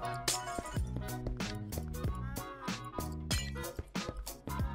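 Glass blocks placed in Minecraft make a quick run of bright, close, repeated clinks at a regular pace, fairly quiet overall.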